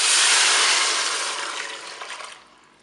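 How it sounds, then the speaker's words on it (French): Broth poured into a Cookeo pot during a pork roast and lentil recipe, a loud steady rushing splash close by that gradually thins and fades out over a few seconds, no voices. "Là, je vais mettre mon bouillon."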